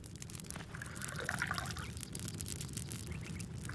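Water pouring in the farming video game Farmer's Life, a soft continuous trickling and splashing stream heard at low volume, steady throughout with faint background ambience.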